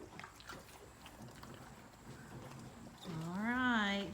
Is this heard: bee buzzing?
no